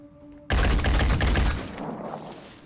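Rapid bursts of gunfire from the Phoenix Point video game break out suddenly after a brief quiet, loud and close, then fade into a lingering rumble.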